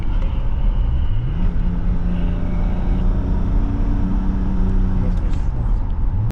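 A 1993 BMW M5 E34 engine drones loud and close from inside the car on a test drive, its pitch climbing and falling as the revs rise and settle, with low road rumble underneath.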